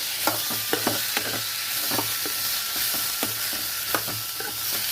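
Pieces and seeds sizzling in a hot pan, a loud continuous fry broken by repeated scraping stirs, with no talk.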